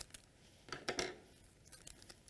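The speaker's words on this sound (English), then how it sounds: "I'm going to take some heat resistant tape here, some scissors, and I'll just cut 2 pieces here." Scissors snipping heat-resistant tape, a few quiet, close crisp cuts clustered in the middle of the clip over a faint room background.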